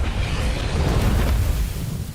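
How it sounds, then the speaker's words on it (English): Deep, rumbling explosion in the space exploration game Outer Wilds, a loud sustained low roar filling the whole moment without pause or talk. "That explosion goes across dimensions"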